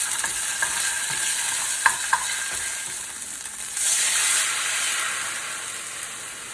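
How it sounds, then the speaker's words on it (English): A pan sauce for stuffed chicken sizzles while the alcohol cooks out, with a few sharp utensil clinks early on and then a louder burst of hissing sizzle midway that settles back to a steady fry. "I'm just cooking out the alcohol"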